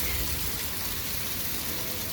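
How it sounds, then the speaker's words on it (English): Stormy April weather on a sheep farm, with hail, snow and wind giving a constant dense hiss of precipitation and gusts beating on surfaces close by, with no voices. "We are having yet another hail, snow, windy, stormy, cold, nasty day."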